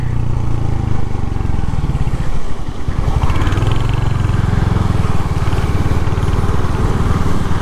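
Royal Enfield Hunter 350 motorcycle riding on a wet road, its engine a steady, loud low thrum with rhythmic pulsing and road rumble throughout, with no talk over it.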